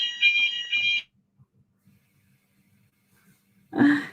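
A fire alarm goes off during a live talk show, giving a shrill electronic beeping burst, then near-silence before it sounds again loudly.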